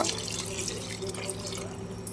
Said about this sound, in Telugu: ఇంకొన్ని వాటర్ అయితే పోసారు